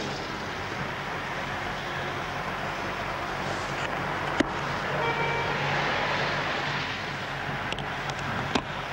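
A car drives along with a steady road and engine rumble, while brief horn toots and a few sharp clicks stand out over the continuous background noise.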